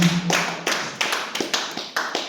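Brief, sparse applause from a church congregation, a handful of sharp claps in an uneven rhythm, close and fairly loud, with no voices heard.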